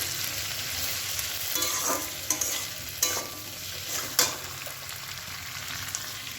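Softened onions and capsicum frying in a pan for chilli paneer, with a steady sizzle and a few sharp spatula knocks and scrapes as they are stirred, close and alone without speech.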